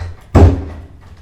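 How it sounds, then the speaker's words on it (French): A door shuts with a single loud thud indoors, followed by a brief fading rumble and then quiet. "Profite pour fermer la porte"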